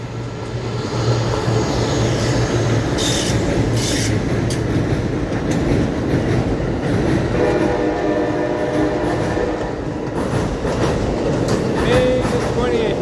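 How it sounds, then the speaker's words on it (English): An Amtrak Auto Train rumbles steadily past across the Doctors Lake Bridge in Jacksonville, Florida, close and loud, with a continuous rolling clatter and a brief tonal whine partway through. "the Amtrak Auto Train crossing the Doctors Lake Bridge in Jacksonville, Florida"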